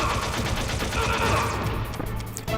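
Rapid continuous gunfire in the Gears of War video game, loud and dense bursts of automatic shots running for the whole stretch.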